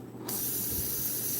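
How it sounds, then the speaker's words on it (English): An Iwata CM-SB airbrush sprays Createx Illustration Colors paint onto Claybord, starting after a moment of quiet as a sudden, close, continuous airy hiss that holds steady to the end. "But now when I spray this color here,"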